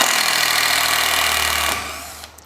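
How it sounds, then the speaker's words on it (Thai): A Makita TD110DWYE cordless impact driver drives a screw with a loud, steady buzzing hammer for about two seconds, then cuts off abruptly, leaving a brief fading tail. "แต่ว่ามันมีเสียงที่ค่อนข้างดังนี่คือข้อเสียของไขควงกระแทกเลย"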